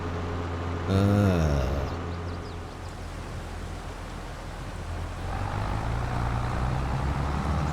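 A tractor-drawn mower in Farming Simulator 22 drones steadily in a broad engine hum, with a tonal whine briefly rising near the start and the noise lifting again toward the end.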